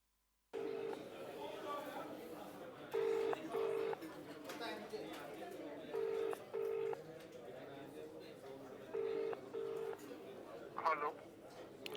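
A phone dials out with a string of short, evenly spaced keypad tones over a faint hiss on a quiet line, the beeps coming in small clusters with brief gaps between them.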